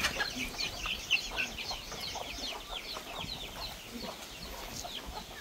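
Chickens at feeding time keep up a dense stream of clucks and chirps close at hand, many birds calling over one another steadily throughout.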